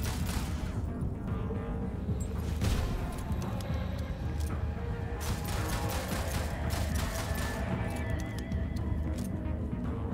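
Machine gun fire in the video game Moon Mystery comes as repeated rapid bursts of crackling shots over a steady low rumble, loud and continuous for several seconds.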